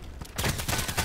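A teammate's gunfire in the online shooter Contract Wars: after a quieter moment, a loud burst of rapid, closely spaced shots starts abruptly and keeps going to the end.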